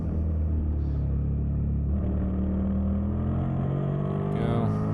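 Suzuki SV650 superstock motorcycle engine on the Road Atlanta race track, a steady onboard rumble that rises in pitch as the bike accelerates, with a sharp shift in tone midway and a higher whine near the end.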